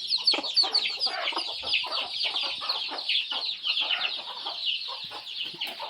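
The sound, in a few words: hen clucking with chicks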